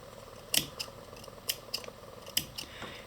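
Sharp scissor snips trimming weaving yarn on a rigid heddle loom, several quick cuts spaced irregularly, close and fairly quiet.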